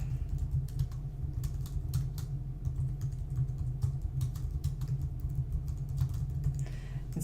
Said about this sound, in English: you just type in whatever you want to say to the student about that particular passage